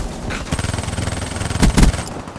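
A sentry turret in Call of Duty Black Ops III opens fire with a loud, close, rapid burst of automatic shots, evenly spaced and rattling, ending in a couple of heavier blasts.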